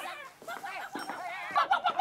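A person imitates a clucking hen, a burst of voiced, pitched cackles growing louder toward the end, close and mid-level with other voices around.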